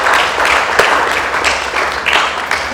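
An audience at a book launch applauds, a close, steady patter of many hands clapping that continues for a few seconds without pause.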